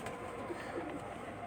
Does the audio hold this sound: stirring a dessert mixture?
no